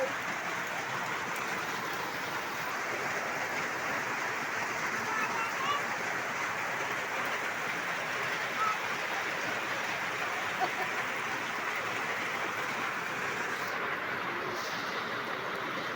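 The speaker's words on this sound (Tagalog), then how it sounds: "Kasi umuulan." Steady, dense hiss of rain falling, constant and even throughout with no distinct pauses, fairly close by.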